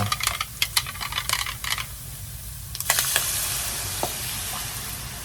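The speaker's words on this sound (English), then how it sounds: "I'm going to let this simmer, let it gravy up" Corned beef gravy seasoned only with salt and pepper cooking in a pan, with a run of close clicks and scrapes giving way to a steady soft sizzle and bubble, no talk.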